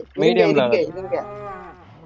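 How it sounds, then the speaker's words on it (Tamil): A cow in the Minecraft video game moos loudly and up close, one drawn-out call that starts strong and fades into a lower, wavering tail. "என்ன இது மாடு சவுண்ட் கேக்குது?"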